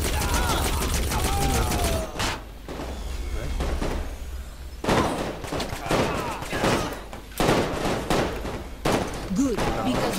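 Bursts of gunfire from a hacked weapon in Saints Row IV, sharp loud volleys repeating in clusters with short gaps, mixed with character dialogue spoken over and between the shots.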